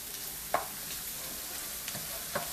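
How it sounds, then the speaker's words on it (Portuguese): Carrots fry with a soft, steady sizzle in a pan, broken by a few light scrapes and knocks as a utensil stirs them. No voices. "vamos misturar a cenoura"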